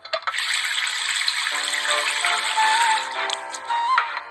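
Tap water runs steadily while dishes are washed at a sink, a continuous splashing gush that lasts a few seconds with small clatters near the end and no talking.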